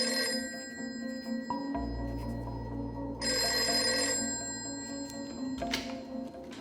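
An old telephone bell rings at a remote coastal weather station in Blacksod, Ireland, in long trilling bursts with pauses between, clear and close with a low hum beneath.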